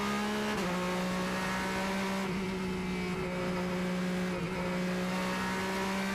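Porsche and Ferrari race cars at the 2020 Lone Star Le Mans FIA WEC round, one drawing a steady, loud engine tone that drops in pitch early on as the driver lifts off the throttle, then holds on, with no talking.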